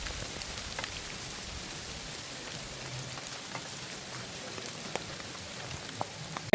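Rain falls on an outdoor site deep in a forest in Mullaitivu during a remembrance gathering, a steady hiss of drops pattering on surfaces with occasional sharper nearby drips and no voices.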